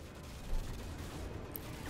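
Sustained automatic gunfire in the video game Call of Duty: Modern Warfare 2, a dense, steady rattle of shots with one sharper burst near the middle, loud and continuous without talk.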